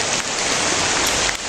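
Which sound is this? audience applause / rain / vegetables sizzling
rain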